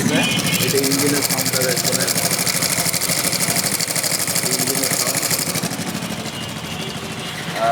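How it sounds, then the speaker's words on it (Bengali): A modified Honda C50 motorcycle engine idles loudly up close, its rapid, uneven chugging pulses running steadily throughout, with a voice briefly audible underneath. "এখন বাইকের সাউন্ডটা একটু শোনাই আপনাদেরকে"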